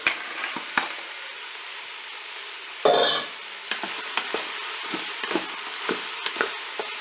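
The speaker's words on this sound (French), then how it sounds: "mon huile est chaude, je vais pouvoir mettre mes oignons. Allez, je vais ajouter maintenant les poireaux bien dans la cuve." Leeks and onions frying in hot oil inside a Cookeo multicooker pot, a steady close sizzle with occasional stirring clicks and a louder burst of crackle as more vegetables drop in.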